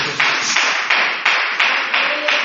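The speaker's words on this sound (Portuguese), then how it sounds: "Louve a Deus com as palmas" Church congregation clapping hands in praise, a steady rhythmic beat of about seven loud claps, close and sustained with no voices over it.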